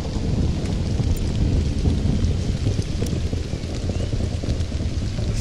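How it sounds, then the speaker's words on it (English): Rain falls steadily in the survival game Stranded: Alien Dawn, a dense continuous hiss and patter with a low rumbling, windy undertone, constant and loud with no voices. "Finally, rain. This will improve the growth rate."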